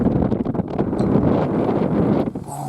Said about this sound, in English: And windy too.